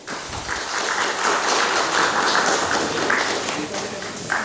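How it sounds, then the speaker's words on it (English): Dense, sustained applause from a standing audience at the India Today Art Awards fills the hall evenly, with a speaking voice mixed in. "A standing ovation there, huge applause."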